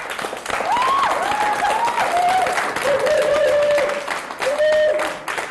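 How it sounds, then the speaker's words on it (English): An audience applauds after a talk by a professor. The clapping is loud and sustained, and a voice rises and falls over it. "another round of applause for Professor Germaine Greer"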